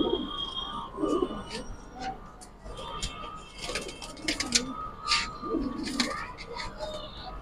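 Kalam-breed pigeons cooing in soft low murmurs, near and intermittent, amid a busy pigeon market with chirps, clatter and people talking throughout.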